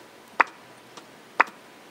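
GarageBand click-track metronome ticks: two sharp, quiet clicks about a second apart with a fainter tick between them, dry and isolated.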